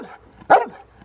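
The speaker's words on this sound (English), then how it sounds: "I am told that is the authentic barking sound of a St. Bernard" A single short, loud bark from a St. Bernard dog, close up, preceded and followed by quiet low background sound.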